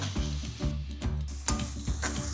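A handful of chilies sizzles in hot oil over low heat, a soft crackling hiss running under recurring low, tonal pulses.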